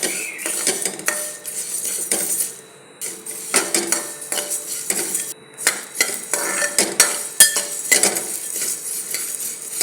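Whole cardamom, cloves, cinnamon and black peppercorns frying in a pan for a mutton pickle, with busy, loud metallic scraping and clattering as the spices are stirred, over a light sizzle throughout.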